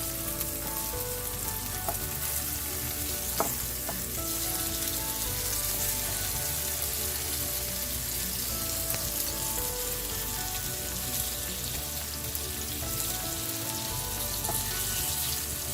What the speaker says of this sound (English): The first side is done, so I'm going to flip my fish.